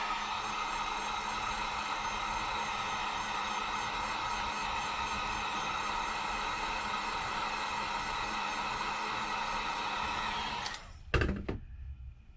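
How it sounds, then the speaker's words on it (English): Heat tool blowing on the back glass of a Samsung Galaxy S10 Plus, a steady close whooshing hiss that cuts off near the end, followed by a couple of handling thumps. "I'm going to just try applying some heat to it, see if I can get these off"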